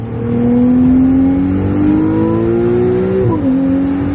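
A Ferrari 296 GTB with 830 horsepower accelerates from inside the car, its engine droning loud and close as the pitch climbs steadily, then dips briefly at a shift and resumes rising.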